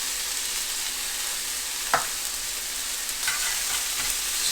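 Broccoli and white rice sizzle in about a tablespoon of olive oil in a pan as a metal spatula stirs them, with a steady frying hiss and a couple of sharp scraping strokes.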